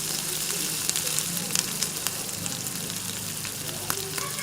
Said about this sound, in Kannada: ಈರುಳ್ಳಿ ಪೀಸಸ್ನ ಹೇಗೆ ಹುರ್ಕೋಬೇಕಂತಂದರೆ ಗೋಲ್ಡನ್ ಬ್ರೌನ್ ಬರೋವರೆಗೂ